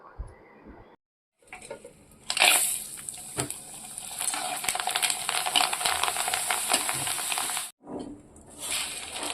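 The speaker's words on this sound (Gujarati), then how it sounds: "પછી મેં ઘરે આવી અને ભૂંગળા ને પાપડ તળ્યા" Steady sizzling of papad and bhungla frying in hot oil, continuous and fairly loud, with a brief quiet gap early on and a short break near the end.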